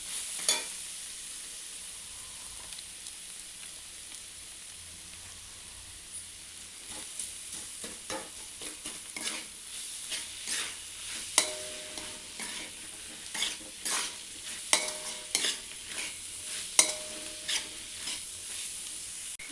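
Spice mix sizzling in oil in a frying pan for curry leaf chow mein, a soft steady hiss at first, then sharper spatula scrapes and clacks against the pan grow more frequent and louder, close up with no talk.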